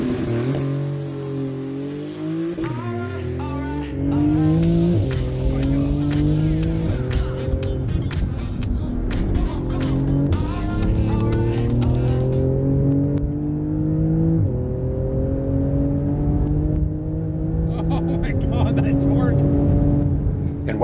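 A Porsche 911 GT2 twin-turbo rear-wheel-drive engine pulls hard, its note climbing again and again through repeated upshifts, loud and close and continuous for the whole stretch.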